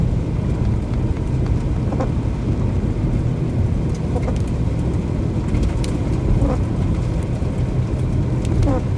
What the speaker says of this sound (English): Am I getting hit by straggling hail?